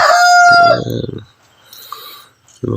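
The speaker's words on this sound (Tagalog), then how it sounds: "Pakinggan natin ng mga tilaok ng manok." A loud gamecock crow up close, ending abruptly, followed by fainter crowing from other roosters in the distance.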